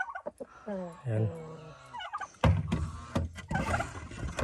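Native chickens and roosters let out short, sharp clucks and squawks in quick bursts, fairly faint and close by, with a brief voice in between.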